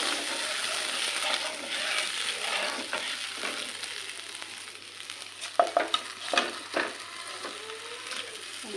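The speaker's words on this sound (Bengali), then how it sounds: "আমার মশলা থেকে তেল ছেড়ে দিয়েছে, তো আমি ঝোলে টমেটো দিয়ে দিব। দিয়ে আমি মাছটা দিয়ে দিব।" Tilapia fish and tomato sizzle and fry in an oily spice paste, with a continuous frying hiss and a few sharp clinks and scrapes of stirring near the end.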